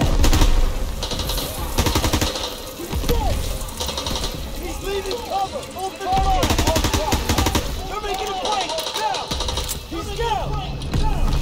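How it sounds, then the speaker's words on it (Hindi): Sustained machine-gun bursts and rapid gunfire from the World War II shooter game Call of Duty WWII rattle loudly and almost continuously, with brief pauses between volleys. "ऊपर छत से मेरे पर फायर मार रहा है ये"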